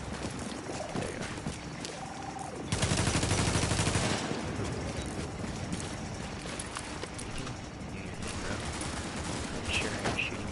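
Automatic gunfire in The Division keeps up a rattling, dense texture throughout, with a louder, sustained burst near the start, and a voice talks over parts of it.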